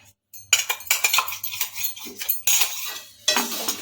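Spoon scraping and clinking against a pan while masala chira, flattened rice, is mixed with spices, a close series of irregular metallic scrapes and knocks with brief pauses.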